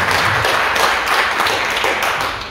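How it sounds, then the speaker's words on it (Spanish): Strong, sustained applause from a congregation during a Sunday church service, a dense and even roar of many hands clapping close by that eases off slightly at the end. "¡Qué fuerte el aplauso al Rey de Gloria!"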